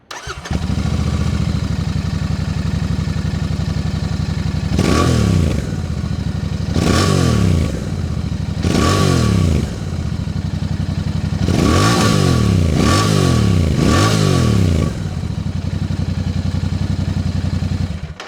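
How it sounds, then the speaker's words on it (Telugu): A Royal Enfield Bear 650 twin idles with a steady low rumble, then several sharp throttle blips rise and fall in quick bursts, loud and close, with no talking. "సో ఈ బైక్ ఎగ్జాస్ట్ నోట్ ఎలా ఉందో ఒకసారి చూద్దాం మనం"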